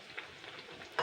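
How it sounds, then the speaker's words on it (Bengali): Khaja pastries fry in oil over medium heat, giving a quiet, brief sizzle with a sharper crackle near the end. "তো দেখুন এগুলো কিন্তু ভাজা আরম্ভ হয়ে গেছে"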